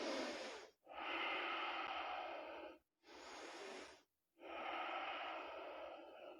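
Slow, deep breaths taken while holding a yoga pose: three long, airy breaths, close and clear, each separated by a brief pause, with no talking.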